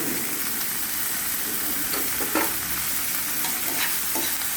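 Ginger frying in a pan alongside curry leaves and peas, stirred with a spoon: constant loud sizzling hiss with a few distinct scrapes and clinks of the utensil, close by, without speech.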